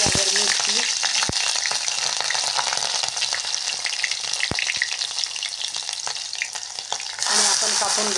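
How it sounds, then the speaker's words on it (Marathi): Chopped onion and green chillies sautéing in hot oil with mustard seeds and cumin for Maharashtrian matki rassa, a loud steady sizzle with occasional sharp crackles and stirring scrapes, close and continuous. "आपण कापून घेतलेला कांदा चांगला मऊ होईपर्यंत आपल्याला परतायचा आहे"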